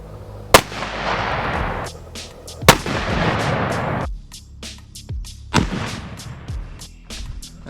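Three sharp, powerful gunshots are fired into a dirt bike engine, aimed at the transmission. Each loud crack rings out with a long, echoing decay, and smaller knocks and rattles follow between the shots.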